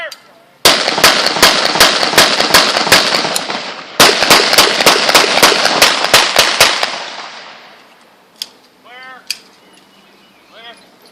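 A pistol is fired in an outdoor demonstration at Freedom Plaza: loud, sharp shots in two rapid strings with a brief break between, then echoes fade and a few faint sounds follow.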